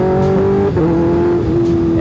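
Kawasaki Ninja H2 motorcycle engine held at high revs during a wheelie, a loud, steady close-up drone that dips briefly and shifts pitch a couple of times, with no talk.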